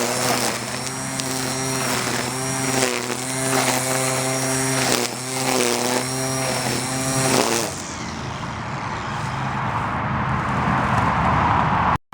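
A Black and Decker 36V lithium string trimmer cutting grass beside a road: a steady high motor whine with pulsing cutting load for several seconds, then the motor winds down leaving road noise.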